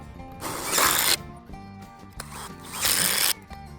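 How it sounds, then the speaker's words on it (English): A DeWalt cordless drill boring into a wooden stud, heard as two separate bursts of high-pitched motor whir with a grinding edge, each about a second long, with quieter handling sounds between them. "I'll be using my DeWalt, then the Bauer, and then the Bauer with the DeWalt battery."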